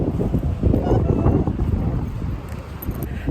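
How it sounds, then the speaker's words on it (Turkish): Strong, cold wind batters the microphone with heavy, irregular low rumbling gusts, loud and close throughout. "o kadar soğuk ki rüzgar nefesimi kesiyor"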